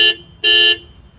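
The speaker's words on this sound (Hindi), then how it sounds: "दबाएंगे तो इस तरीके से गाड़ी जो है वो बीप करती है" A car gives two short, loud electronic beeps as the remote lock and unlock buttons are pressed, the second beep longer, followed by faint background hum.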